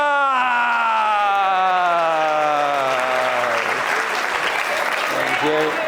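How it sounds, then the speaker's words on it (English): A conference audience breaks into a round of applause, dense clapping swelling in after a sustained sliding vocal tone and continuing loudly to the end. "give Kirsty a round of applause"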